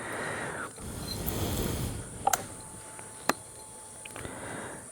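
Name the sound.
crickets and cicadas calling in forest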